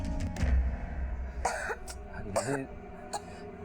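Two or three short, harsh coughs from a feverish person break through a murky background of low rumble and faint voices, fairly close and moderately loud.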